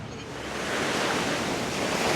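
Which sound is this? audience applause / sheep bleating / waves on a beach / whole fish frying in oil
waves on a beach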